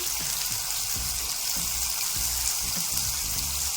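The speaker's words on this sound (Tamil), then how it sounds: "நல்லா காய்ஞ்சதும் ஒரு அரை ஸ்பூன் கடுகு சேர்த்துக்கலாம்" Steady hiss and crackle of mustard seeds frying in hot oil, close up, with faint scattered pops and low clatter beneath.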